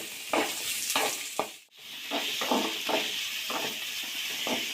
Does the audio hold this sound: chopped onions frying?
yes